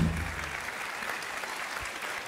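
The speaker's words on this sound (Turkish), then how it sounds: "İngilizcemi alkışlamayın arkadaşlar" Studio audience on a Turkish television talk show bursts into applause, a dense, even wash of clapping that carries through the whole short stretch at moderate loudness with no voices over it.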